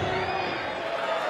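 A large wrestling audience at a live show in Adelaide roars in a steady, dense wash of cheering, with a commentator talking over it.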